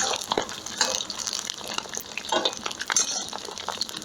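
Beef sizzling and frying in a kazan while plov is being cooked, a steady hissing crackle with brief louder spatters over several seconds, heard close up and without any talk.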